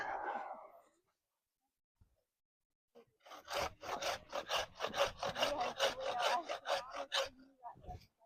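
Rhythmic back-and-forth hand sawing through a small tree trunk, a dozen or so rasping strokes in steady succession after a brief voice and a pause.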